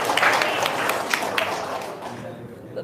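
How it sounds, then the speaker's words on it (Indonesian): Audience applause greets a guest being invited up at a talk show, with a dense burst of clapping that gradually fades over a few seconds, mixed with voices. "Tepuk tangan dong"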